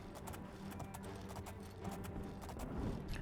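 Horse hooves clip-clop in The Elder Scrolls IV: Oblivion, a brisk irregular run of muffled hoofbeats over a low, constant background rumble, quiet throughout.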